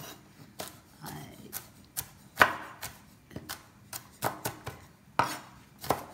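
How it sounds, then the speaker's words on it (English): Knife chopping pumpkin on a cutting board for soup, a run of sharp, irregular chops over several seconds with brief pauses, close and fairly crisp, with no speech over them. "chop it up"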